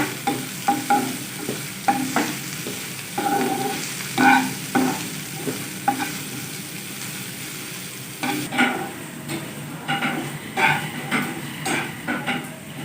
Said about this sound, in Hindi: हल्का सा फ्राई करेंगे।